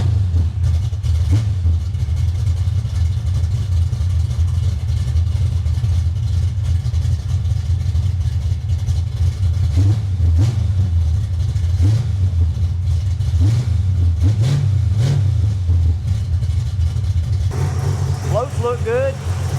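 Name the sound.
car engine with converted carburetor being driven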